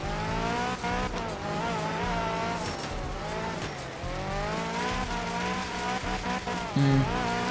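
Rally car from the Art of Rally video game racing over wet gravel in Sardinia, its engine droning loud and continuous with shifting pitch, a brief thump near the end.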